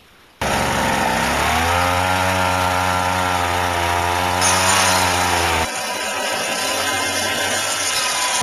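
Woodworking machine shaping wood for an Armenian duduk, starting abruptly with a loud, close, steady whine and harsh grinding that shifts in pitch partway through.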